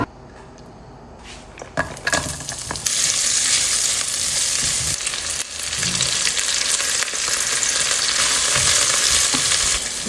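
Ugba frying in palm oil in a pan for abacha, a faint clatter at first, then a loud, steady sizzle with occasional stirring scrapes, no talking.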